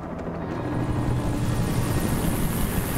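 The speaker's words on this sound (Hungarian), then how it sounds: "Helikopter." A helicopter in the video game Alan Wake Remastered thrums with a loud, continuous rotor roar and heavy low-end rumble that swells slightly and stays steady, with no talking.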